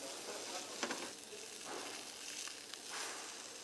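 Fish frying in a hot pan, a soft steady sizzle with brief louder crackles and stirring bursts, fairly faint throughout.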